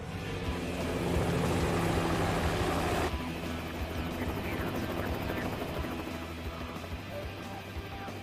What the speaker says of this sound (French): Nous sommes dans un hélicoptère, mais pourquoi?